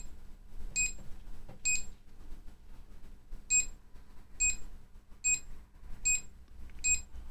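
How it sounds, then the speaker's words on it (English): A DIY ATtiny85-based multimeter beeps in continuity and diode test modes, giving seven short, high electronic beeps spaced roughly evenly over a quiet low background hum. "If I short the probes together, we can see that we get a continuous tone."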